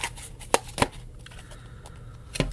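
Tarot cards being shuffled by hand: a few sharp riffling bursts separated by quieter handling, close and fairly soft.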